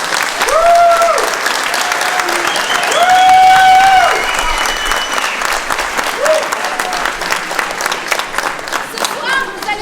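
A theatre audience applauds steadily and fairly loudly for the full length, a dense wash of clapping with a few brief squeaky tones rising above it.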